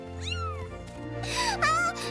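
A kitten in a cartoon gives two clear, close meows, the first short and rising-falling, the second longer and wavering, over a sustained low musical background.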